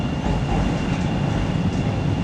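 A Chicago CTA L train runs toward O'Hare, heard from inside as a steady loud rumble and rolling wheel noise with a faint high whine, no voices.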